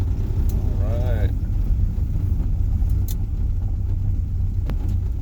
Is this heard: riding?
yes